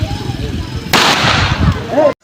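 Firecrackers crackle and bang at a Ganesh festival night puja, a loud sustained burst of rapid pops and booms over a noisy outdoor crowd, ending abruptly.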